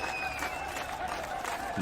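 Dense crowd applause in a dramatic scene from the Telugu-dubbed film NGK, a steady wash of loud clapping over roughly two seconds with faint voices mixed in.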